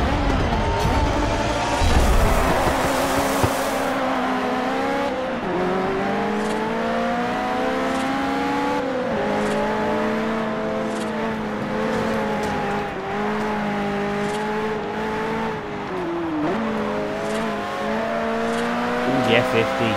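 Alfa Romeo 8C Competizione race car engine in Forza Horizon 5, a sustained revving drone with shifting pitch as gears change, loud and continuous under an excited commentator talking throughout.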